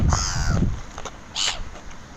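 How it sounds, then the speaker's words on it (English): Harsh, loud seagull squawks and cries close by in Bristol, overlapping in a short, agitated fight. "There's a seagull fight going on here."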